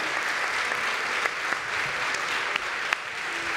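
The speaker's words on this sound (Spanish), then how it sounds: "Él sí que merece un aplauso." Audience applause at a Spanish political talk, a steady roar of many hands clapping together with a few sharper individual claps standing out, no talk over it.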